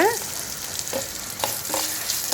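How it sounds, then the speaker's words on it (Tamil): Ginger and onions sauté in a hot pan, a loud, steady sizzle broken by a few quick metallic scrapes and clinks from stirring, with no one talking. "அந்த இஞ்சி ஒரு துண்டு எல்லாம் போட்டு நல்லா வதக்கிக்கிறோம்"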